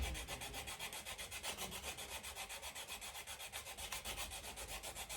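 Rapid, regular rasping strokes of sandpaper on a carved wooden eating spoon, close and fairly quiet, with a slight catching scratch in the rhythm where an unsanded spot is worked against the grain.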